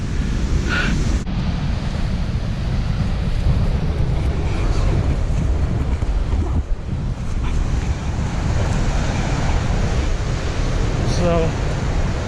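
Ocean waves surge and wash continuously over a rocky shore during mussel foraging, with a steady loud roar of surf and strong wind buffeting the microphone throughout.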